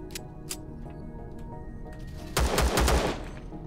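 A turret in the sci-fi survival game Empyrion Galactic Survival firing on a planetary base, heard as a loud, rapid automatic burst late on after a few scattered clicks and quieter shots.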